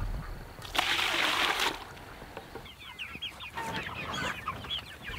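Chickens cluck and chatter close by in a busy flock on a homestead, following a loud burst of gushing water from a broken hose.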